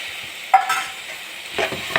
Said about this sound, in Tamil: இதெல்லாம் ஒரு மிளகாத்தூள் சேர்த்துக்காங்க, சேர்த்து நல்லா வதக்கணும்.